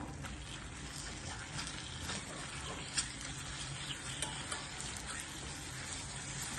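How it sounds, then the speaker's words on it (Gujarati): Ground figs stirred into ghee in a pan over a medium gas flame produce a low, even sizzle, with a few soft scraping knocks from the stirring and no talking. "હવે આ સ્ટેજમાં આપણે અંજીર નાખીશું, ગ્રાઇન્ડ કરેલા."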